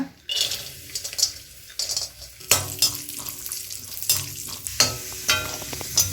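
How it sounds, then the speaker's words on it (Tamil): Raisins fried in a pan, then stirred with a metal utensil, for rava laddu: soft sizzling under a series of scraping, clinking stirs that come in bursts, close and moderately loud, with no talking. "இதுலேயே திராட்சை போட்டு வறுத்துக்கலாங்க"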